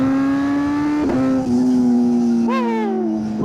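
A 2025 Kawasaki Z900SE naked motorcycle accelerating on a freeway in second gear, its engine whine rising steadily in pitch, a quick shift, then climbing again, loud and close under wind rush.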